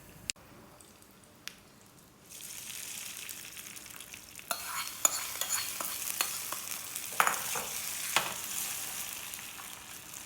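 Hot tempering of cumin, cinnamon and sesame seeds in oil sizzling as it is poured into handvo batter, a soft hiss that starts after a quiet opening, with scattered stirring clicks and spoon taps throughout.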